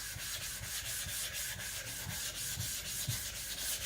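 Steady rasping strokes of an IKEA Chinese cleaver being thinned on a whetstone, a continuous gritty scrape with soft regular pulses from each pass, close and even throughout.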